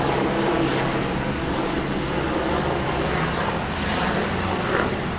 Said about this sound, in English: we've got a helicopter that's going above